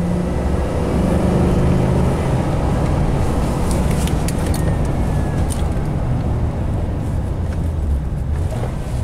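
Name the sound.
GM truck engine revving in first gear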